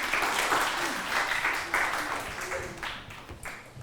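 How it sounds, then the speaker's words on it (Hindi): A studio audience on a morning talk show breaks into steady applause that swells and fades in waves, with no voices over it. "यार ताली बजा सकते हैं आप लोग,"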